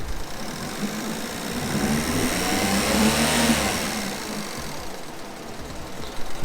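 An engine idles steadily after new spark plugs, a low, even rumble with a slightly rough mid-range hum that swells and fades, with no talking over it.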